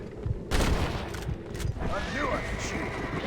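Gunfire in the Western video game Red Dead Redemption, a burst of shots with a dense volley near the start, then continued firing under game music and shouted talk.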